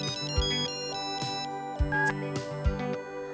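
An electronic phone ringtone plays a bright, repeating melody of synthetic tones with short percussive hits, clear and close with no talking.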